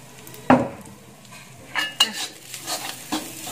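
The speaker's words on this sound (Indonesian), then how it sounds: "Bumbu kacangnya itu saya goreng lagi biar tambah wangi ya." Peanut spice paste for Betawi vegetable asinan fries in a pan while a spoon stirs it: a few sharp scraping strokes and clinks over a faint, soft sizzle.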